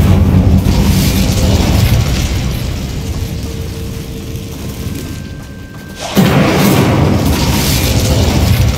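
An Incendio fire spell cast in Hogwarts Legacy, a loud, sustained whooshing roar of flames and booming game effects that dips briefly before surging back at full strength.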